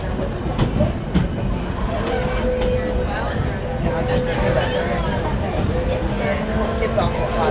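The Disneyland Railroad train on the Grand Circle Tour rolls steadily along with a continuous rumble, rhythmic wheel clatter and occasional squeals, while people talk in the foreground.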